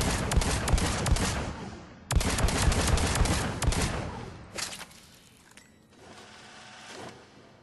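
The Phalanx pistol in Mass Effect 3 fires in loud, rapid bursts of sharp shots with brief pauses between them, then a couple of quieter shots and mechanical handling clicks near the end.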